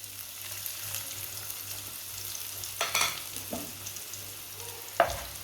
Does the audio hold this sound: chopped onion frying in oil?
yes